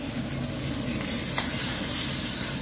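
Duck breast sears in a hot pan with a continuous close hiss and sizzle, loud and even, with a faint clink partway through and no voices.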